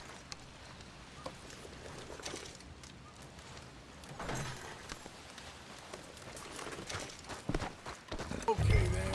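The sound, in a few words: horse hooves clopping, from a video game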